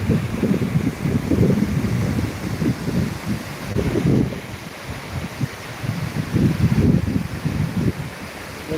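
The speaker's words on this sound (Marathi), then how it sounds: "पाण्याचा आवाज बघा कसा येतोय" Floodwater of the Bindusara river in Beed rushes past in a loud, continuous low roar that surges and ebbs in waves, mixed with wind buffeting the microphone, with no voices.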